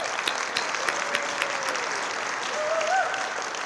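Audience applause at a city State of the City and employee recognition event, steady moderate clapping from a crowd in a hall, with faint voices and a brief tone rising under it.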